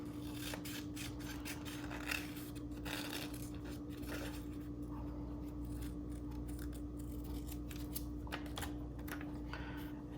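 Scissors snip out small paper details for a snowy-day collage, a series of soft, quick irregular cuts heard close over a steady low hum.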